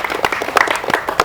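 A small group claps briefly at a Durga Mata festival setup, quick uneven hand claps close by, loud for about a second, with faint voices underneath.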